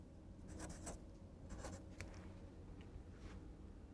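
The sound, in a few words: writing the word teepee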